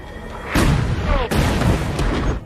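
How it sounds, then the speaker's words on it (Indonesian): German submarine guns firing in a WWII Atlantic naval battle scene from the film Greyhound, with two heavy booming blasts about a second apart over a loud rumbling battle soundtrack. "Namun tiba-tiba kapal selam Jerman melepaskan tembakan."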